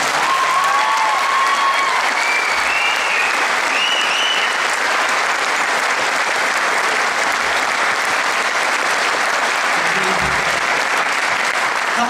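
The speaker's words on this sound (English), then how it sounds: "I know you're just giving a big round of applause." A large school audience applauds the cast and crew of a student stage production of Beauty and the Beast, with steady, dense clapping that holds loud and unbroken throughout, joined by a few whoops and cheers.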